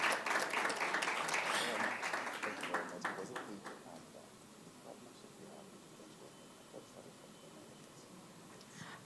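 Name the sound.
audience round of applause for panelists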